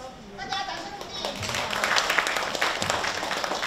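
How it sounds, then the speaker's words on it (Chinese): Audience applause in a company presentation hall fills the room, a dense steady wash of many hands clapping that swells slightly and continues throughout, with faint voices underneath. "谢谢大家的掌声"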